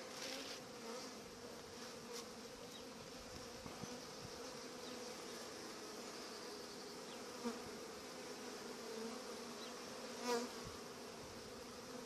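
Honeybees buzz steadily around an allotment hive during an early spring inspection, a faint continuous drone with occasional closer passes, no voices.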